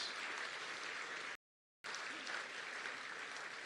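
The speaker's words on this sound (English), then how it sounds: "another round of applause for Lois Whitney for leading us tonight" Audience applause at a county State of the County Address, a steady dense wash of clapping that cuts out briefly midway and then resumes, with no talking over it.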